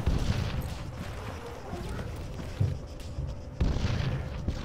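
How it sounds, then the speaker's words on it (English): Enemy APC firing in the military game Arma 3: a dense, continuous rumble of distant gunfire with a few sharper booms, heavy low-end throughout. "It's enemy APC firing."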